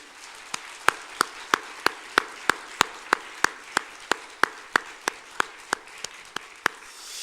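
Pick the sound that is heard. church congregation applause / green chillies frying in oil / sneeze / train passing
church congregation applause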